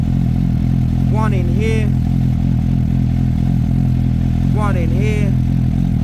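A Suzuki GSR 750 motorcycle in limp mode idles steadily and close throughout, a constant low engine drone with someone talking over it.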